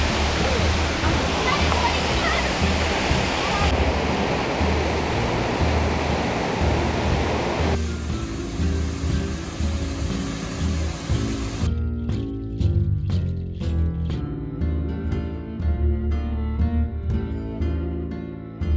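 Marmala Waterfalls in Vagamon roar with a dense, constant rush of falling water, loud and near, while voices talk and later music plays over the steady flow.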